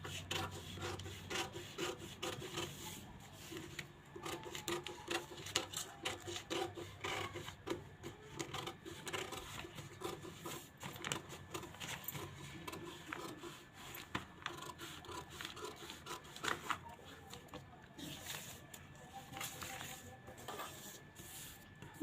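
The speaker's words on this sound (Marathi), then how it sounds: "कटिंग करताना आता हा इकडचा भाग कट करायचा." Scissors cut through size-40 katori blouse fabric in a continuous series of quiet, close rasping snips and fabric rustles, soft and evenly paced throughout.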